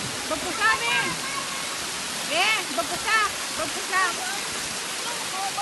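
Waterfall in a provincial countryside setting, a steady broadband rushing roar of falling water throughout, with voices calling and talking over it.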